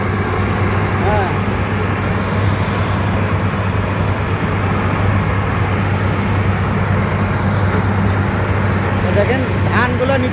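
A rice harvester cuts through a paddy field at full speed, its engine droning steadily and loudly throughout with a constant mechanical hum, while people talk over it.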